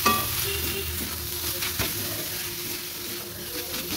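Prawn and radish ghonto is stirred in a pan after ghee, garam masala and coriander leaves go in, and it makes a close, steady sizzle with soft scraping of the spoon and one brief knock.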